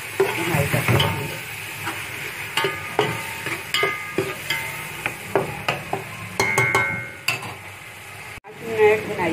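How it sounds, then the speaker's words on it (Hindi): Chickpeas roasting in a pan for chana pulao, a steady sizzle cut by repeated sharp scrapes and clinks of a spoon against the pan, with a brief louder knock near the end. "चनों को तकरीबन हम 10 मिनट तक अच्छी तरह इसकी भुनाई कर देंगे"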